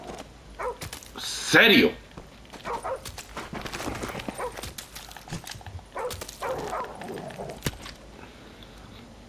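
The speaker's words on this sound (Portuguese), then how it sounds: "Está a enervar o cão." Dog in the video game Call of Duty Modern Warfare lets out a sharp loud bark early on, followed by fainter yips, while people talk over it.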